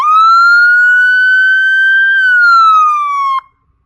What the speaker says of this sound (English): Then we have our standard siren.